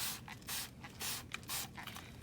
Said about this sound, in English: You just spray first.